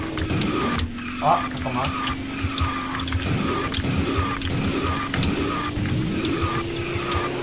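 Kart engine drone and drift effects from the racing video game KartRider, a steady buzzing motor tone with repeated skid and boost sounds, running under an excited player's talking.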